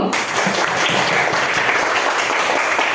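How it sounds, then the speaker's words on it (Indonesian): Classroom applause for students after their presentation, a dense steady patter of many hands clapping together for the full span, close and loud. "Tepuk tangan untuk kita semua dulu."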